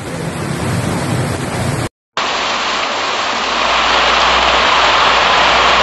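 Heavy rain pours during a flood and landslide in Seremban, a dense, loud, continuous hiss of downpour with a brief cut in the middle, no voices.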